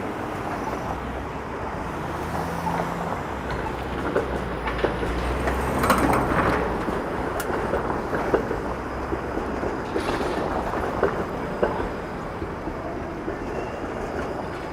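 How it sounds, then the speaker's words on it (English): A 506 Carlton streetcar rumbles past on a gray downtown Toronto street, a steady broadband roar of rail and road noise that swells in the middle and holds throughout, with no talking. "There's the 506 Carlton streetcar."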